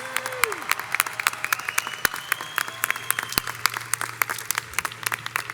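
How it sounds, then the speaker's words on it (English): At the 2023 Fordham School of Law diploma ceremony, an audience applauds the Master of Laws graduates. The clapping is fairly sparse and scattered, with distinct individual claps heard across a large hall. "And now a round of applause to the Master of Laws graduates"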